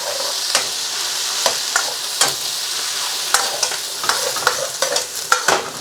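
Vegetables with garlic and ginger being stir-fried in a pan with extra oil: loud continuous sizzle punctuated by repeated sharp clanks and scrapes of tossing, close and busy, no voices.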